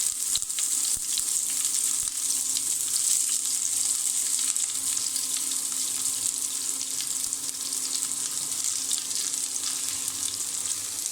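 Panch phoron, chopped garlic and onion fry in hot oil for papaya bhaji, a steady, close, bright sizzle that holds constant throughout with faint crackles and no talking.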